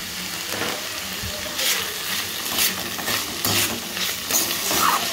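Boiled beans, carrots and other vegetables with a bean bhujia sizzle and get stirred in a pan for homemade fried rice, close and steady frying with scraping spoon strokes throughout.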